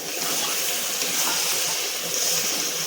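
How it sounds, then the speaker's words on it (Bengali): Water poured into a hot pan of cooking chicken skin, producing a steady close hiss and gushing splash that runs for a few seconds with no talk. "এবার আমি একটু জল দিয়ে দেবো সামান্য সেদ্ধ হওয়ার জন্যে"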